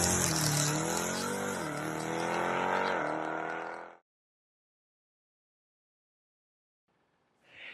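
A Dodge Durango Hellcat with a 6.2-liter supercharged V8 revs loudly and close for about four seconds, its pitch swelling and dipping, then cuts to silence before a brief burst of sound returns at the end.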